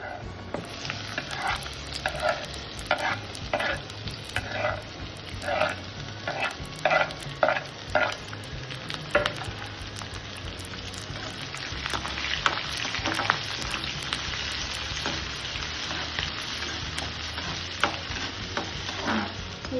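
Onions and peanuts sautéing in sesame oil in a pan, a steady sizzling fry with repeated spoon stirring and scraping through the first half, then continuous frying alone.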